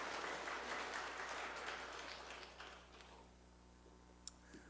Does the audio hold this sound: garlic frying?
no